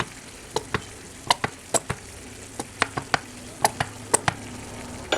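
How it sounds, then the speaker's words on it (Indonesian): A spoon scrapes and knocks against a pan while stirring a boiling tomato sauce, giving a steady run of sharp, close taps over a soft bubbling sizzle, with no talking. "Diaduk merata."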